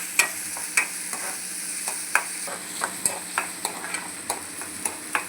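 Vegetables with carrot and capsicum stirred in a pan over low heat, a steady soft sizzle broken by regular scraping strokes of a spoon roughly every half second, close and alone with no talking.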